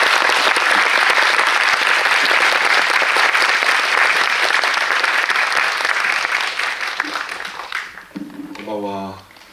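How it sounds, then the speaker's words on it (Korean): Loud, sustained applause from a large audience at a film screening and director talk fills the room, then fades out near the end as a voice begins speaking. "입장하실 때 큰 박수로 환영의 인사를 보내주시기 바랍니다."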